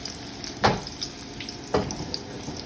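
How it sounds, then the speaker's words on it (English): Breaded pork loin sears in hot oil with a steady low crackle, broken by two louder sizzling bursts as pieces hit or shift in the pan. "I'm really just searing them until they have like a nice golden brown color"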